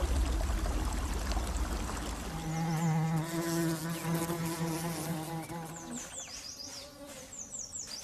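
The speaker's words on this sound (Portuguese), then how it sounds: "Abelhas japonesas." Japanese honeybees buzz steadily, a sustained droning hum that wavers in pitch, close and continuous, alongside faint high chirps.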